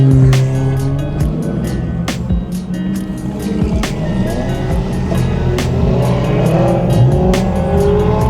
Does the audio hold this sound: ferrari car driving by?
yes